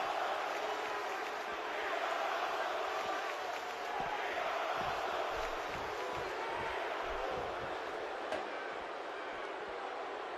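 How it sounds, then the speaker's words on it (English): Arena crowd noise from a WWE 2K16 wrestling video game match between Cesaro and Enzo Amore, a steady loud wash of cheering and roaring fans throughout, with occasional thuds beneath. "by the sound of this crowd, Cesaro hits the jackpot with a huge move"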